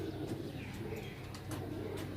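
Pigeons coo softly in a low, repeated pattern, faint and distant, with a few light chirps over a steady background hiss at a pigeon sale in Sarai Alamgir.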